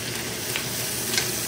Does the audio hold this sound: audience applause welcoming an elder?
no